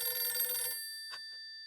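A telephone rings with a bright electronic trill for most of a second and then stops, followed by a couple of faint clicks, heard indoors in a sitcom scene.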